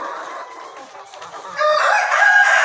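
A KUB rooster on a poultry farm crows once, loud and close, its call rising in a strained, drawn-out cry over farmyard clucking.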